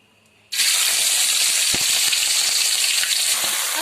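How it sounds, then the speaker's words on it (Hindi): Sea crabs fry in a little oil, a loud, steady broadband sizzle that bursts in suddenly and then holds close and continuous, with faint crackles scattered through it. "अब हम क्रैब को अच्छे से भून रहे हैं"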